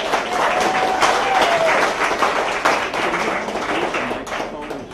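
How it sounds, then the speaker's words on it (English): Applause from an audience at a science slam event as a presenter is introduced, dense clapping throughout with some crowd noise and a voice briefly heard. "A nice applause for Jim."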